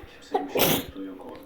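A single sharp sneeze bursts out in the middle, with quiet background voices before and after.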